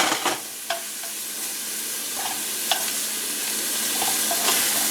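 Pork pieces, a second batch for pork and Hatch chili stew, sizzle steadily in a stew pan, a continuous close frying hiss broken by a few sharp clinks and scrapes of a utensil against the pan.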